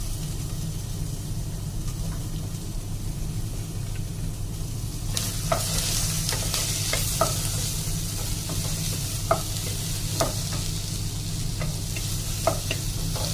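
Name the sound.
chopped vegetables being stir-fried in a pan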